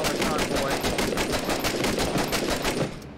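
Rapid automatic gunfire from the Six Days in Fallujah video game, loud dense bursts of overlapping shots running continuously, then cutting off near the end.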